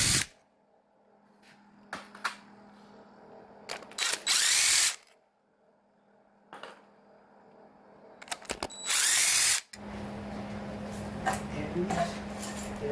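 Power tool spinning off 12mm intake bolts on a Toyota 3SGTE engine from an AW11: two loud whirring bursts of a couple of seconds each, separated by clinks and handling noises, with a steady hum underneath.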